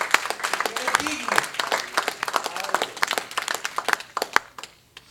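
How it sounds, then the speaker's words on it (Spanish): Church congregation claps in a burst of applause, many hands producing quick irregular slaps close by, mixed with voices talking and calling out over it before the clapping thins near the end. "Y si va a darle ese aplauso, déselo con fuerza."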